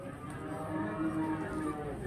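A Pegon cow moos once, low and drawn out, close by at a cattle market in Glenmore, Banyuwangi, where cattle are sold for qurban, with faint market murmur around it.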